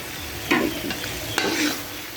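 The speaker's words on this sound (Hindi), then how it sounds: "इसको इस तरीके से ये दही डाल के भी मैंने भून लिया है" Beef masala with yogurt frying in a pot, a soft continuous sizzle with two brief scraping stirs of a spoon, close and fairly quiet.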